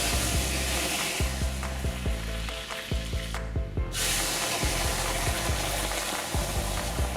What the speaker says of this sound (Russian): После закипания масла пырсните туда совсем немножко воды. Это вызовет очень бурную реакцию.